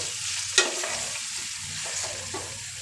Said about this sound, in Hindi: कलर चेंज होने तक हम चिकन को अच्छी तरीके से फ्राई कर लेंगे।